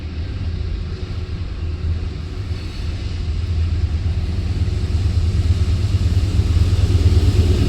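A very long freight train rolls steadily past with its locomotive engines rumbling, a dense, continuous low roar with wheel and rail noise that holds loud and even, building slightly toward the end, with no voices.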